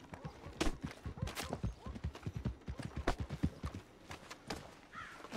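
Horse hooves in Red Dead Redemption clip-clop in a quick, uneven walking rhythm, close and moderately loud, with a few faint background noises and no clear speech.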